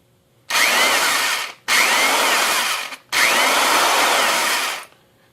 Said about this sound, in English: It's an old Black & Decker drill, 3/8 inch.